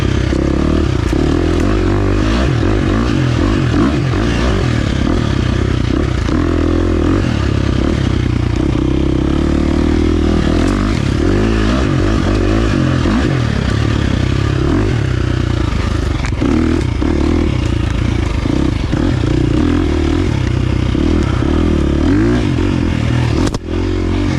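A 2023 KTM 350 XC-F dirt bike engine drones loudly and continuously close to the rider, its pitch rising and falling with throttle and shifts, with some clatter from the ride.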